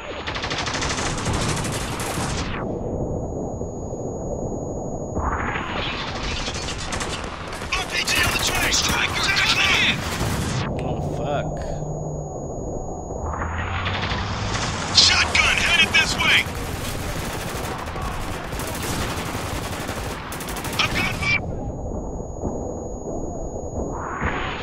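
Sustained bursts of automatic gunfire and explosions in the war video game Spec Ops: The Line, loud and dense across the whole stretch, with shouted in-game voices under the shooting.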